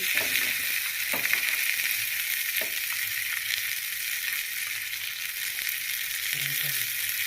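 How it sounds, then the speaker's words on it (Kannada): Cashews roasting in ghee in a pan for moong dal payasa give a steady, close hissing sizzle, broken by a few faint stirring scrapes. "ಫಸ್ಟು ನಾನು ಗೋಡಂಬಿ ರೋಸ್ಟ್ ಆದಮೇಲೆ ಇದು ದ್ರಾಕ್ಷಿ ಎಲ್ಲ ಸ್ವಲ್ಪ ದಪ್ಪ ಆಗುತ್ತೆ, ಆವಾಗ ಹಾಕೋಣ"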